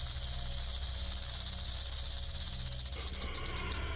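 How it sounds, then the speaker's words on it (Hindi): A rattlesnake shakes its tail rattle in a steady, dry, high-pitched buzz that runs loud and unbroken for about four seconds, with no voices. "स्नेक जितना बूढ़ा होगा उतनी ज्यादा देर तक अलार्म बजाता है।"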